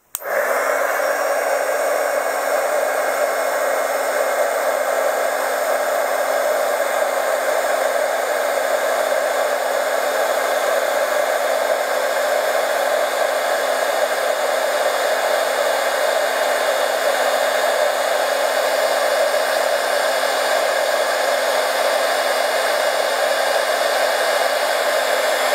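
A heat gun blows steadily and loudly for the whole stretch, shrinking tubing over a feather shaft for fancy dance bustle regalia, with a continuous airy roar and a faint whine, and no talking.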